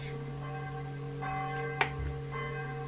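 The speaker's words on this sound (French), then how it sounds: "Veuillez m'excuser pour les cloches." Church bells ring at a distance, steady sustained tones with a few fresh strikes layered over the lingering hum, faint and alone.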